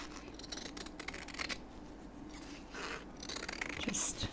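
Scissors snip and slide through vintage linen fabric in a series of close, crisp cuts with short pauses between, no talking.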